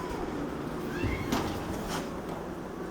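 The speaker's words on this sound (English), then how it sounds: "very playful, 2 more black kittens, very playful, Missy." Kittens at an animal shelter let out a couple of faint, brief meows over a steady background hum, with no talking.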